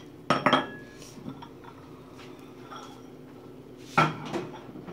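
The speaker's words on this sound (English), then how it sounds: "Get these dishes in the sink." Dishes are set into a kitchen sink after cooking a sausage and pepper breakfast: a couple of sharp ceramic and metal clatters at the start, softer clinks in between, and another clatter near the end.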